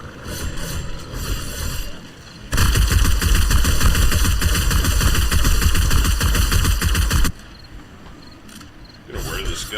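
Sustained rapid automatic gunfire from 7 Days To Die, a loud dense burst lasting several seconds after quieter game ambience, then cutting off abruptly.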